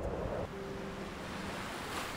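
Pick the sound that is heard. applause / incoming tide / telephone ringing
incoming tide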